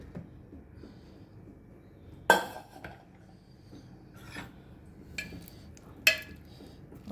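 A pressure cooker lid is opened after cooking yam and raw banana, giving a few sharp metallic clanks and scrapes spaced apart over a quiet kitchen background, with no talking.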